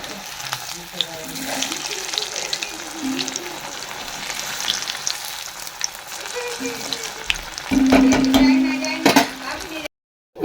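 Cauliflower pakoras deep-fry in hot oil close by, a continuous bubbling sizzle that swells louder near the end, with occasional stirring clinks and faint voices in the background.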